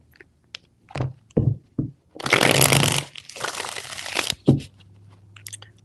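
Tarot cards being shuffled, with a few scattered soft taps and flicks, then two longer bursts of riffling shuffle, close and moderately loud, ending with a thump and light rustles.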